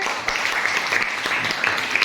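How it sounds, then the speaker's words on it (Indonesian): An audience claps after a school drama performance, a full, lively round of applause with a few sharper individual claps standing out from the crowd's steady patter. "Kasih tepuk tangannya."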